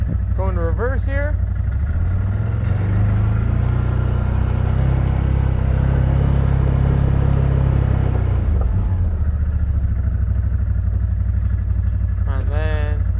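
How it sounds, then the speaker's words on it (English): A 2021 CF Moto ZForce 950 Sport side-by-side idling and reversing on asphalt, its close, loud engine rumbling steadily and swelling under throttle before settling, with a person talking at the start and end. "Going to reverse here."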